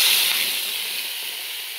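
Crab brains sizzling as they drop into hot mustard oil in a pan, a steady broad hiss that starts loudest and eases slightly, close and continuous with no talking.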